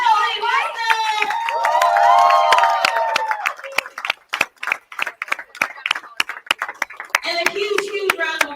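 A crowd at a senior women's bowling championship final claps and cheers while an announcer's voice dominates the first half, followed by loose, sharp individual claps from a modest audience.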